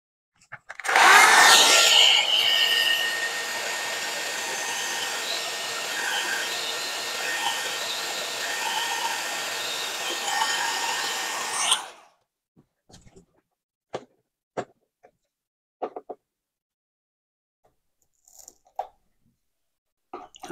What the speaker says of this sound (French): je vais le réchauffer un petit peu avec le sèche-cheveux